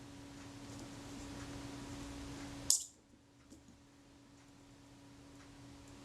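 A single sharp mechanical click of a Kodak Retinette IIA camera's shutter release rings out, crisp and close, then the faint background hum drops away into near silence.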